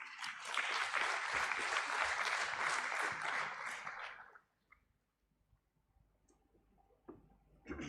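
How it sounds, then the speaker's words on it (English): Audience applause at an IPO listing ceremony welcomes a speaker to the stage: loud, dense clapping for about four seconds that cuts off abruptly, leaving near silence with a few scattered claps and small noises. "Let's welcome him on stage with a round of applause."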